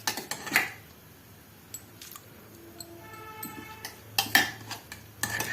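A utensil stirs grated carrots into boiling milk in a wok while gajar ka halwa is being made, giving scattered metallic clinks and scrapes with quiet gaps between them.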